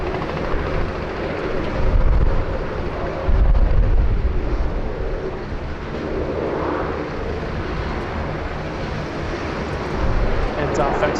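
The Qantas QF1 airliner departs Sydney Airport for London with a sustained jet engine rumble that swells in deep surges, fades and builds again near the end, under a voice talking.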